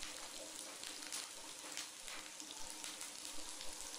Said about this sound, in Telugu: ఆయిల్లో వేసుకోవాలి. ఇలా అన్ని ముక్కలు